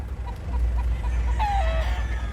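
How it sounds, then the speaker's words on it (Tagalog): Gamefowl rooster crowing on a game farm, one clear drawn-out cock-a-doodle-doo over a low steady rumble, with soft clucks from other chickens just before it. "Grabe mga manok dito"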